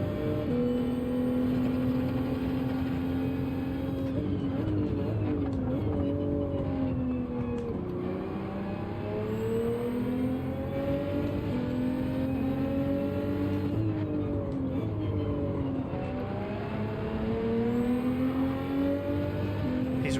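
Race car engines from Gran Turismo 7 in a Manufacturers Cup round at Blue Moon Bay, including a BMW M4, drone loudly and steadily, pitch rising and falling through shifts and corners without a break.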